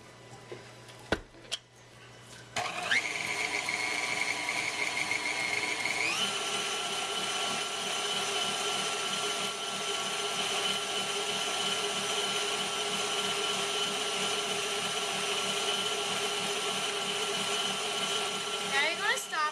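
A stand mixer beats chocolate cupcake batter: a steady, loud motor whir with a rhythmic churning pulse that starts after a few knocks and runs continuously, with a voice talking over it.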